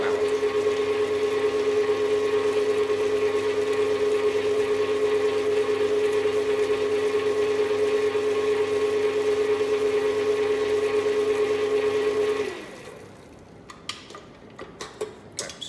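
A mixing machine works butter pastry dough with a steady, loud motor hum and whir that runs unbroken for about twelve seconds, then stops, leaving a few light knocks and clatters.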